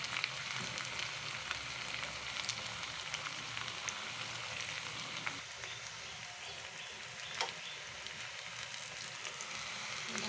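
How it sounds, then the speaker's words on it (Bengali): Potatoes deep-frying in oil, a steady close crackling sizzle that runs unbroken and even throughout, with no voices over it. "তো আমি ছাকা তেলে আলুটা ভেজে নেব"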